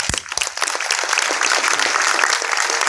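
Audience applause welcoming an area manager named Vivek onto the stage at a business meeting, a dense, steady wash of many hands clapping that swells quickly after a couple of sharp early claps and holds loud throughout.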